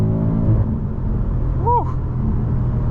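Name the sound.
BMW M5 Competition engine accelerating at full throttle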